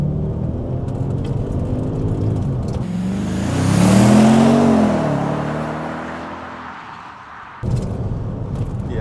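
Audi RS6 C5 in sport mode revving hard from inside the cabin, engine note climbing steadily to the 6,500 rpm red line and easing off, then a sharp return of loud road and engine roar near the end.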